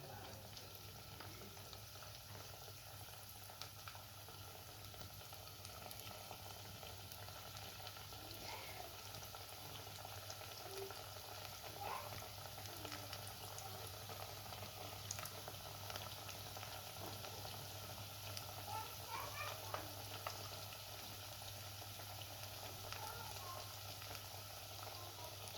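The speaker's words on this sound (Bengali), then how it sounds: "তো এইখানে আমি এই যে ডালের বড়া দিয়ে দিচ্ছি পেঁয়াজু, এটা এখন এক এক করে আমি এই যে ভেজে নিচ্ছি" Lentil fritters (piyaju) frying in oil, a faint, steady bubbling sizzle with a low hum underneath, with occasional soft clinks.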